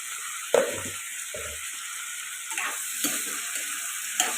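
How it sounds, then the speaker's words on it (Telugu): Tomato pieces with salt fry in a pan, a faint steady sizzle broken by a few soft stirring scrapes and light clinks of a utensil against the pan. "ఈ టమాటో ముక్కలు కూడా బాగా ఫ్రై అయిపోవాలండి, మెత్తగా అయిపోవాలి."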